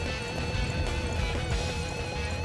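A horse gallops in the video game Dynasty Warriors 9, its hooves clip-clopping in a quick steady rhythm under game music, with a whinny mixed in.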